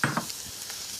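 Chorizo frying for chicken paella in a paella pan, a close, brief hissing sizzle with a couple of scraping stirs at the start, no talk.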